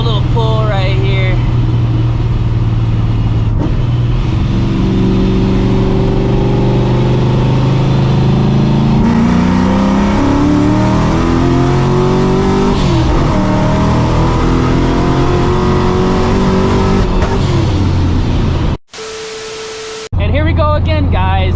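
A 600 hp New Edge Ford Mustang GT with a rattling, worn clutch making a hard acceleration pull, its loud engine note climbing steadily through the revs before a brief cut and a short burst of talk at the end.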